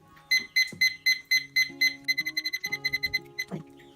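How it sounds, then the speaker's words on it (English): An oven timer beeps repeatedly in a kitchen while banana muffins bake, sounding short bright electronic tones in a steady series that speeds into a faster run of beeps near the end, close and clear with a few faint clunks. "it's going to beep, beep, beep, beep."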